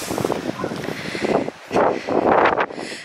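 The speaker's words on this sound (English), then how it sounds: "Certainly catches the wind up here, though." Wind gusts outside a hilltop church on Exmoor in rural Somerset, roaring across the microphone in uneven surges with stronger blasts toward the end.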